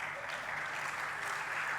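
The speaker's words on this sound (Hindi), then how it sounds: "अब बजाओ ताली" An audience at a Hindu religious discourse applauds steadily, a dense and fairly faint wash of many hands clapping together with no talk over it.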